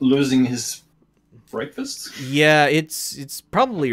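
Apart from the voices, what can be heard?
No everyday noises stand out.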